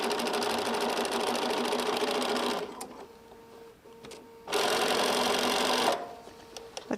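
A sewing machine stitches a quilt seam in two loud, steady runs of whirring, with a short quieter pause between them and a brief lull at the end.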